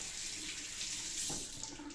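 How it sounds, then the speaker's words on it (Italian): Water from a tap runs into a shaving brush, a steady close splashing trickle heard alone for a couple of seconds. "Goccetto d'acqua all'interno del pennello e cominciamo a montare."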